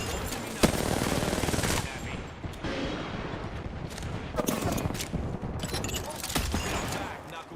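Video-game gunfire rattles in rapid automatic bursts with sharp individual shots, loud and close, continuing almost unbroken with brief gaps and a few heavier cracks.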